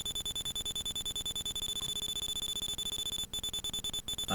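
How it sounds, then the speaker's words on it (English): A loud, rapid electronic beeping alarm from a fan-made Mega Man game level pulses in a fast steady rhythm, briefly cutting out twice near the end. "That's a very loud beeping sound effect."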